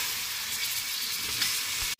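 Chopped pumpkin, bottle gourd and eggplant hiss and sizzle steadily as they go into a hot pressure cooker for hotel-style sambar, a continuous close frying sound that cuts off abruptly at the end.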